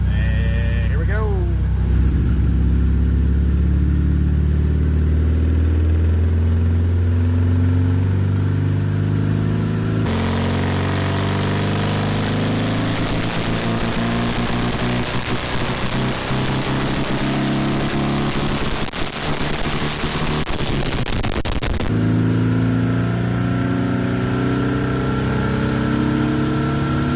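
1600cc VW Beetle engine on a Dynojet dyno in third gear, a loud, close, steady drone rising slowly in pitch through a long pull from about 2,000 RPM, turning rougher and harsher near the top, with nothing else heard over it.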